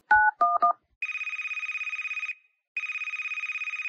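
A telephone in a horror video game dials a 911 emergency call with a few quick keypad tones, then an electronic ring pulses in two long bursts separated by a short silence, clear and alone.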